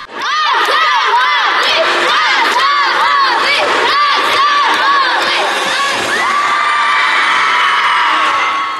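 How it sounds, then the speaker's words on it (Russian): Fans and children cheering at a family sports relay, a loud, continuous crowd of high shouts and whoops rising and falling in waves, then settling into a steadier roar. "Мощная поддержка болельщиков помогала командам побеждать даже в самых трудных"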